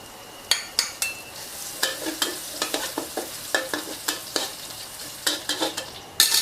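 Garlic stir-frying in oil in a pan, a steady sizzle broken by a run of sharp, close scraping strokes as a utensil stirs it, one every half second or so, with no talk.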